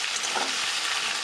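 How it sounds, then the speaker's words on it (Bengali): Potatoes and onion stalks fry in hot oil with black cumin in a pan, a steady bright sizzle with a brief stir, with no voices. "ভাজা ভাজা করে নেবো, একটু ভেজে ভেজে।"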